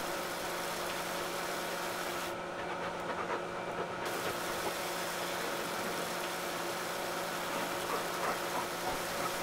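A K700 tractor engine idles in the Farming Simulator 19 game, a steady low rumble that holds evenly throughout at a modest level with no talking over it.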